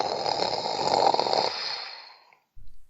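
A single long, raspy snore rises and fades over about two seconds, fairly close and clear, followed by a brief low rustle after a pause.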